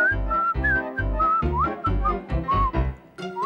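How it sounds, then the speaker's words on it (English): A cartoon Tic Tic Bird whistles a bright, repetitive tune in short melodic phrases over a light musical backing, close and clear. "Ronald suddenly found that the Tic Tic Bird's whistling really annoyed him."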